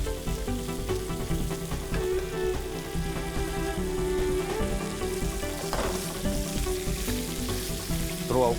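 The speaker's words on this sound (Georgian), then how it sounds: "მოხარშული კარტოფილი კარგად უნდა დაიბრატოს დამწვარ კარაქში" Boiled potatoes fry in browned butter, giving a dense, steady close sizzle that continues throughout, with occasional stirring noises and no talking.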